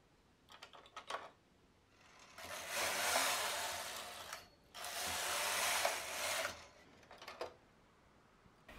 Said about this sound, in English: Knit 126 rows, increasing one stitch every other row to